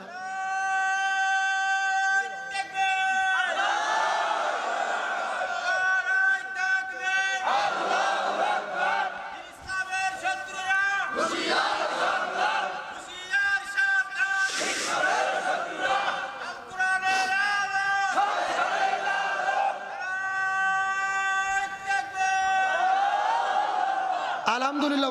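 At a religious gathering, a crowd chants slogans in loud call-and-response bursts, one voice leading and many answering together, repeating across a long stretch with brief laughter in between.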